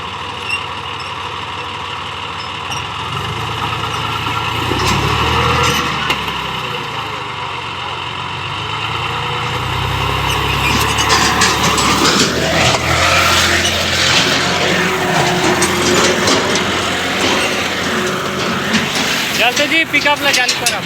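Pickup truck stuck in a farm field, engine running and revving louder partway through, rumbling close under loud talk from people nearby.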